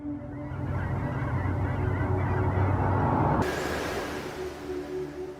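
A large flock of hundreds of geese honks together in a dense, continuous chorus. The calls stay loud and overlapping the whole time, with no pauses between them.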